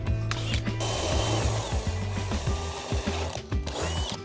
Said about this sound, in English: So start with the drill.